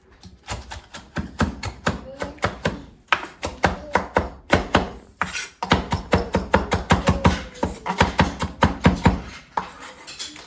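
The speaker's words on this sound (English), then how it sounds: "we're gonna add some basil like this. And I'm just gonna chop it a little bit" A knife chops fresh basil on a cutting board while a lectin-free cauliflower pizza is being made: quick, rhythmic, close knocks come in bursts with brief pauses between runs.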